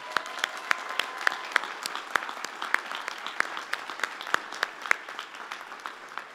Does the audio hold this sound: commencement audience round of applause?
yes